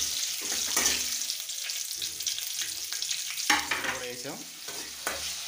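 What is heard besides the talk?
tomatoes and green chillies frying in a pan for upma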